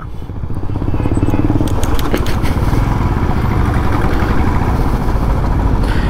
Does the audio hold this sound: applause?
no